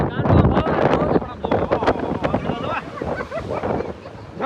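Rough sea surf crashing with heavy wind buffeting the microphone, loud and close, with voices shouting over the roar.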